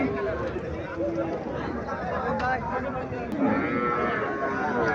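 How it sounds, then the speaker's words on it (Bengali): A local red cow moos amid a busy cattle market in Chandimura, Comilla, the lowing carried over constant crowd chatter and people talking nearby. "এখানে একটা গাভী দেখা যাচ্ছে, তাও দেশি গাভী"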